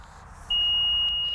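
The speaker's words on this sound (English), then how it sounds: "So we get the beep and we know now that the water table is this deep." A steady high-pitched electronic beep from a water level meter, measuring the water table in a field, switches on and holds continuously for about a second over a low background rumble.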